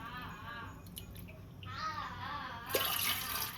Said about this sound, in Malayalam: അപ്പം അതിലേക്ക് ഞാൻ ഒരു 2 കപ്പ് വെള്ളം ഒഴിച്ച് കൊടുക്കാൻ പോകുന്നുണ്ട്.